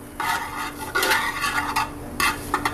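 Minced garlic being stirred as it sweats in a chowder pot for quahog chowder, giving several soft broadband scraping strokes of a utensil against the pot, close and fairly quiet, with no talking.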